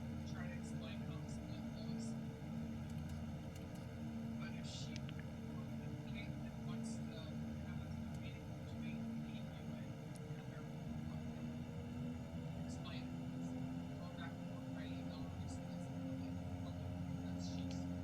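A propeller bush plane's engine drones steadily while taxiing toward the runway in the X-Plane 11 flight simulator at Galbraith Lake Airport, Alaska, a constant low hum with cockpit speech over it throughout.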